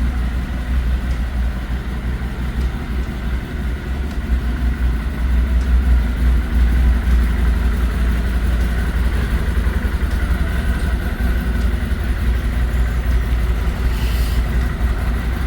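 An Odes Pathcross 650 UTV engine idles with a steady, low rumble close by and a faint mechanical clatter, holding constant for the whole stretch with no voices.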